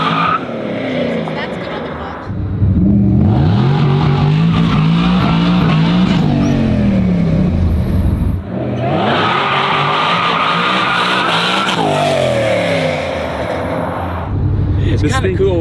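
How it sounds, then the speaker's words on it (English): Ford GT90 with a quad-turbo V12 roars loudly and bounces off its rev limiter in sustained bursts, a harsh, stuttering engine note broken by brief lulls, with people talking over it. "It's kind of cool, you know, when it hits the rev limiter like that."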